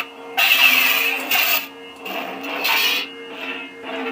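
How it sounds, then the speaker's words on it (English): A Saberforge Acolyte lightsaber plays a series of electronic hum-and-swoosh swing sounds, several rising and falling bursts at uneven intervals, close and fairly loud with no talking. "it does engage the normal swing sound"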